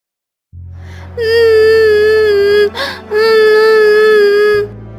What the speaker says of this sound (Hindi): यह किसके रोने की आवाज है?